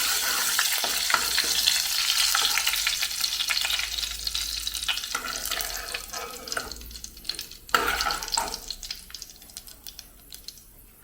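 Curry leaves crackle and sizzle in hot oil for Kerala-style theeyal, a loud, dense spitting fry with sharp pops throughout and a brief burst near the end, with no voice.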